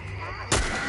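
A single loud, close gunshot cracks out in The Last of Us episode 8, a sudden broadband blast following a stretch of low ambient rumble.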